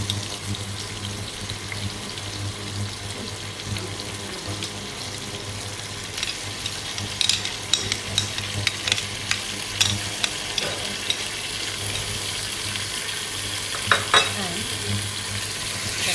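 Ginger and garlic frying in a pan, a steady broad sizzle with occasional stirring clicks and scrapes, close and continuous with no talk.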